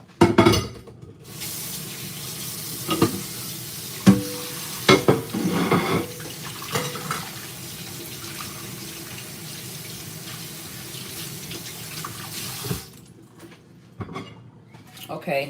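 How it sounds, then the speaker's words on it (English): Water runs steadily from a sink tap while potatoes are rinsed, a continuous splashing stream with occasional knocks and clatters, a brief spoken word at the start before the flow cuts off near the end. "Let me go ahead and wash these because these feel and look gross."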